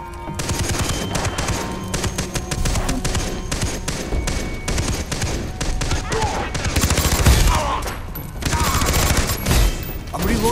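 An MP5 in Far Cry 3 fires rapid bursts of automatic gunfire, loud and close, with brief pauses between volleys and a voice talking over the shooting.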